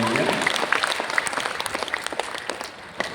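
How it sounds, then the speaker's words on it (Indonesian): Audience at an Islamic motivational training seminar in a hotel ballroom breaking into applause, dense clapping that starts strong and thins gradually into scattered claps. "Boleh tepuk tangan kalau ini ya"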